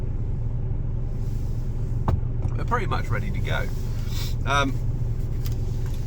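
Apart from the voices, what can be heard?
truck engine running after warming up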